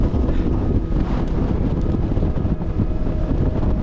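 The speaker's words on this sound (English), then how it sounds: "get out of this wind. It's still windy" Steady, loud wind buffeting the microphone on a mountain top in England, a constant low roar with gusty rumble and no voices.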